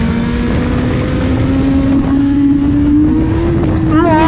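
A Suzuki SRAD 1000 R sport motorcycle's engine roars at high revs at full throttle, its pitch climbing steadily as it accelerates, with wind buffeting the microphone throughout.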